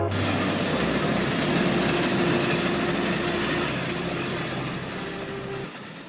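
A train runs steadily through a Bengali village setting, a continuous rumbling rail noise with a low engine hum and a steady tone, loud throughout and easing slightly toward the end, with no voices.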